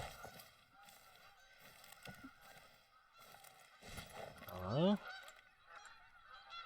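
Geese honk in TheHunter: Call of the Wild, a short burst of loud calls rising over a quieter outdoor game ambience of birds and wind.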